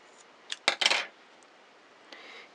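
Scissors snip off the loose yarn ends of a knitted snuggle mug project: a few quick, close metallic clicks bunched together near the middle, with quiet surroundings and no talking.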